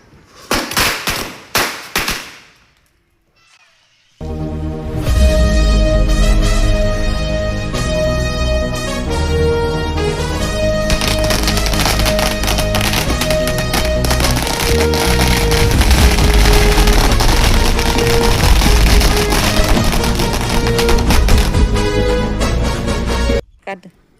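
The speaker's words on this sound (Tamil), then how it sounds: "பட்டாசு வெடிக்குது." A long 1000-wala Diwali firecracker string bursting outdoors at midday, after a few short opening bangs and a brief pause, then a dense, loud, unbroken crackle of rapid pops sustained for about twenty seconds.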